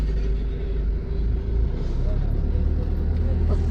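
A truck loaded with big stones rumbles past on a road, a heavy low engine drone holding steady and fairly close throughout, with a faint voice over it.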